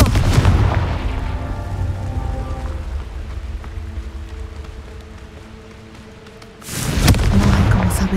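A Confringo fire spell blasts in Hogwarts Legacy: a loud, rumbling explosion fills the scene and slowly fades, then a second heavy blast bursts in near the end.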